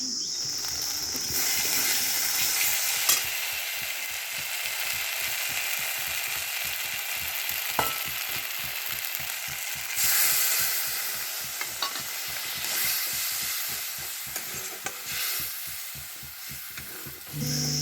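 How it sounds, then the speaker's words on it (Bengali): Masala paste sizzling in a pan for a fish curry, with a spoon scraping and stirring in a fast, steady rhythm under the continuous frying hiss, close and loud. "দেখো মশলা ততক্ষণে কষতে থাকুক।"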